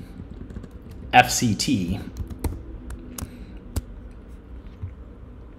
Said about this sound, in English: if I start typing in